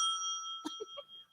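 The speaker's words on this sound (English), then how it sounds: "you got the old-fashioned little kid bell" A small old-fashioned bicycle bell rings in a few quick, light dings over a steady high electronic tone, close and fairly clear, with no speech.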